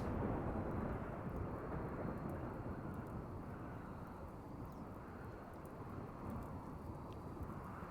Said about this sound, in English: lightning storm to burn down the woods